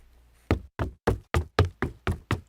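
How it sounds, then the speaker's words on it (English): Eight sharp, evenly spaced knocks ring out on their own, each a crisp thud with a short decay, standing in for an oven door slammed shut in a storybook telling of Hansel and Gretel. "Gretel gave her a tremendous push and slammed the oven door shut"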